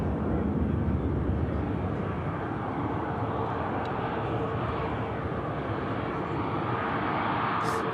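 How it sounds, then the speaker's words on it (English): An Airbus A350 departs Manchester Airport with a broad, steady jet roar that holds loud and constant for the whole stretch, no voices over it. "Awesome departure from the 350."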